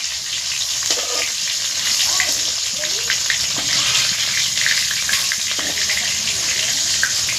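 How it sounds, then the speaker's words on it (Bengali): Chicken chaap fries in a pan of hot oil, a dense, steady bubbling sizzle with wet crackles that stays close and loud throughout, with no talk over it. "কি সুন্দর ফ্রাইটা হচ্ছে দেখুন শুধু।"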